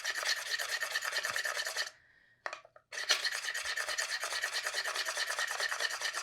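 Tailor's chalk sharpened by steady rasping strokes, loud and close, a continuous gritty scraping broken by a short pause before the strokes resume, with no voices.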